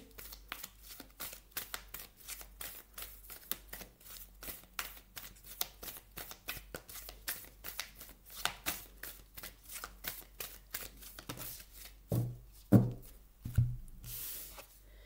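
Tarot cards shuffled by hand in a long run of quick, crisp riffling flicks at close range, soft and steady, ending with a few heavier taps as the deck is squared.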